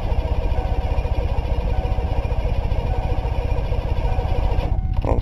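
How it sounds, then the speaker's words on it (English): An old engine cranks over fast on the starter without firing, a loud, close, steady rhythmic chugging that stops abruptly near the end. "Well, it's cranking real fast."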